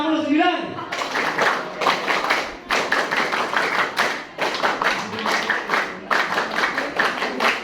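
A school class claps a rhythmic pattern in unison, sharp repeated bursts of near clapping in regular groups, following a brief spoken cue at the start.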